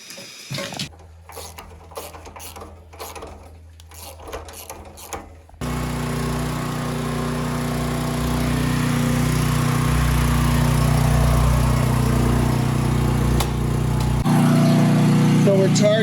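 A flooded generator or small engine that has sat unused for close to a year runs on, burning off excess fuel with a steady, loud mechanical drone after some earlier clattering and knocking.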